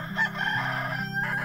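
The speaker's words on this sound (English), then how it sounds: "Talk to the chicken." A rooster crowing in the AKXolotl video game, a single short, clean cock-a-doodle-doo with tonal game-sound layers beneath, close and clear.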